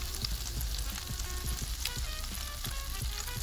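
Hot butter sizzles steadily in a frying pan on a burner, a close, continuous crackle with scattered pops and no talking.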